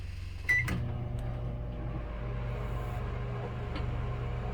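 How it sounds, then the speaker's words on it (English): An 800 watt microwave oven runs on power from an RV inverter generator, starting with a click and then a steady low hum and drone that holds evenly, with a couple of faint clicks. "This is, I believe, an 800 watt microwave."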